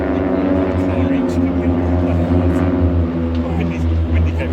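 Several MFI-15 Safari propeller aircraft fly overhead in a delta formation at an air show, a steady droning engine hum with layered tones, loud and sustained, while an announcer talks over it.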